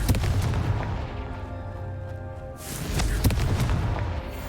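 A Confringo fire spell bursts in the Hogwarts Legacy video game, sharp booming explosive blasts with crackling impacts, one hit early and a louder burst midway, over steady background game sound.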